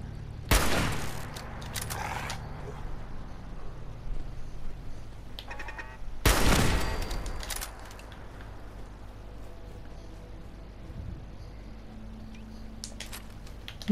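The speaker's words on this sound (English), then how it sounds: "Oh, a turret. A turret, okay." Turret fire in Fallout 4: two loud bursts of rapid shots about six seconds apart, each ringing briefly before fading, with quieter clicks and faint background noise between them.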